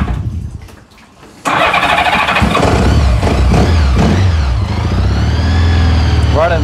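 A vintage Honda Goldwing motorcycle, a barn find brought back to running, cranks briefly after a short lull and fires up, then settles into a loud, steady, close idle with a slight rise in revs toward the end.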